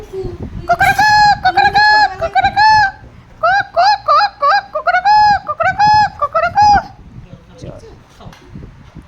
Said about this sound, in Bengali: এটা কি মুরগি না হাঁস?